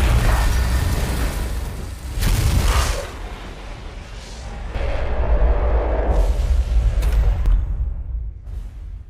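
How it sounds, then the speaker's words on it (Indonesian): Heavy cannon fire and explosions in an alien invasion film battle near a mothership, several deep booming blasts with rumbling tails, loud and close. "dia memerintahkan Jianan yang berada di ruang kendali untuk menembakkan meriam"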